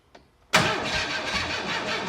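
A 1923 Ford Model T engine cranks and catches after a faint early tap, then keeps running with a loud, steady, rough rumble right up close, with no talking.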